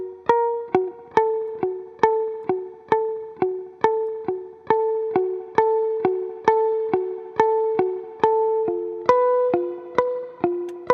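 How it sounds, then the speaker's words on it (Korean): A clean electric guitar through an amp's spring reverb plays an evenly paced run of plucked notes, each ringing into a short reverb tail. The notes are loud and close, with no talking. "앰프의 리버브, 스프링 리버브를 한번 걸어보겠습니다."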